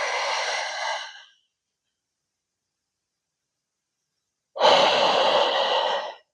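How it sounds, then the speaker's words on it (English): During a Budokon yoga warrior flow, a person breathes audibly, with two long, breathy, airy exhalations separated by several seconds of silence, close and fairly loud, with no talk. "Breathing, reconnecting with the breath."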